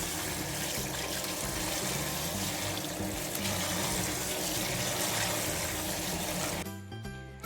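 Rice being rinsed under a running kitchen tap, a loud continuous gush of water that cuts off abruptly near the end.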